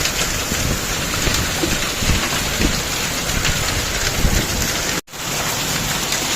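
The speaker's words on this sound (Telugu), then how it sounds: "ఇక ఈరోజు అయితే మొత్తం వడగళ్ళ వాన పడుతుంది" Heavy hailstorm in Hyderabad, Telangana, with large hailstones and rain pounding down in a dense, continuous roar that drops out for a split second midway.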